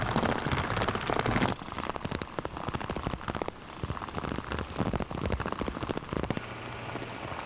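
Steady rain pours during a summer downpour where a great reed warbler shelters on a branch, a dense, even hiss of drops with scattered sharp patters on surfaces throughout, no voices.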